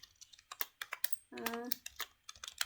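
Rapid, uneven clicks of a computer keyboard as someone types out code, loud and close, with a brief voiced hum or vocal sound breaking in partway through.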